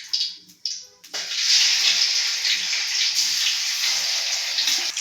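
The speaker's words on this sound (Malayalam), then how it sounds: "ചിക്കൻ കഷ്ണങ്ങളിട്ട് നമുക്ക് വറുത്തെടുക്കാം." Chicken pieces hit hot refined oil, with a few short clatters first and then a loud, steady sizzling hiss that holds close up to the end.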